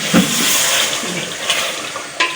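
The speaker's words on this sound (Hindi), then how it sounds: "ये अम्मी पानी डाल चुकी हैं सालन के अंदर" Water poured into a pot of aloo keema curry with rice, a close, hissing gush that blends with the sizzle of the hot pan and sputters briefly near the end.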